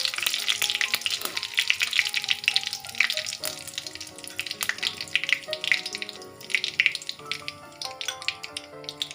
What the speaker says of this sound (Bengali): শুকনো লঙ্কা আর জিরে ফোড়ন দিলাম।